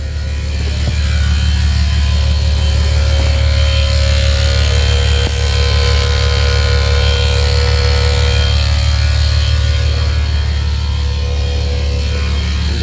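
A constant loud mechanical hum and drone from a faulty electronic parking brake motor on a Bentley Continental GT or Flying Spur, steady and unchanging throughout, with a faint higher whine running underneath.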